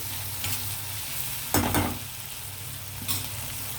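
Raw prawns with gongura leaves and chilli powder sauté in a pan, with a soft steady sizzle broken by a couple of louder scraping stirs of a spoon; close-up, no talking.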